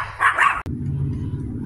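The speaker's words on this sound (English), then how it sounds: "somebody out walking their dog" A dog being walked past a backyard garden lets out a quick pair of sharp barks outdoors, then the sound cuts to a low, steady outdoor rumble.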